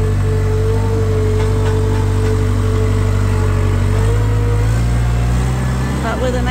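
A skid steer loader runs inside a low-ceilinged barn, its engine a steady loud drone with a constant mid hum that shifts pitch slightly near the end, and a voice is heard over it.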